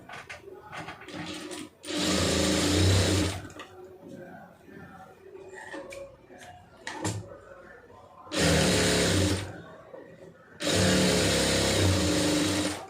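A sewing machine stitches folded puff sleeve fabric in loud, steady runs of a few seconds each. Quieter handling noise and a voice fill the pauses between runs.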